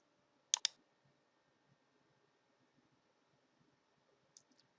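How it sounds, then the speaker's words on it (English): A computer mouse clicks a button during software setup: a sharp double click near the start, then a quieter pair of clicks at the end, close and crisp in a silent room with no talking. "Then go ahead and click the Create button."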